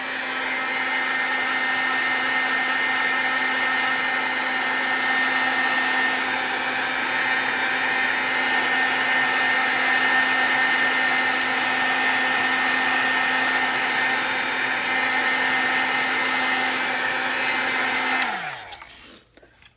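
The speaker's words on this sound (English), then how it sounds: "you can also take a heat gun" A heat gun blows steadily and loudly, drying ink for about eighteen seconds with a constant whirring hum, then cuts off and winds down near the end.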